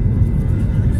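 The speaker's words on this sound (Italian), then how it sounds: "Sentite il rombo dei motori." Loud, steady low roar of airplane engines during takeoff, a dense rumble that fills the whole second without a break.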